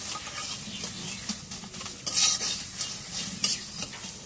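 Green chili paste hitting hot oil in a pan while cooking bitter gourd, a steady close sizzle with stirring scrapes and light utensil clinks, no talk.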